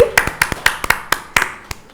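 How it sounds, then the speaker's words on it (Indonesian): An audience at a Yogyakarta cultural literacy event claps, with sharp separate hand claps in an uneven rhythm, fairly close and loud over a short burst. "Ayo kita beri tepuk tangan yang meriah untuk Ibu Dewi Cahya Ambarwati."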